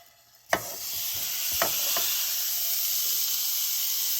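A steak with a salt, black garlic and coffee rub hits the hot Ninja Foodi Smart Grill & Griddle XL with a sharp contact thump, then settles into a loud, steady, broadband sizzle with a couple of small clicks.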